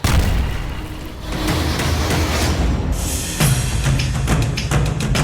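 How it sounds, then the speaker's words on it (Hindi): Deep, rumbling explosion noise from an Israeli strike on Hamas sites in Gaza rolls on continuously, with a fresh booming blast hitting partway through and sharp cracks trailing after. "इसके कुछ सेकंड बाद एक और धमाका होता है"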